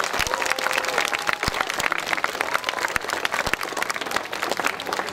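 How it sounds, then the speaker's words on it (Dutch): Audience applause at a high dive stunt show in an amusement park, loud dense clapping with sharp individual claps standing out, sustained through about five seconds with a crowd murmur beneath. "ik vraag aan u een applaus"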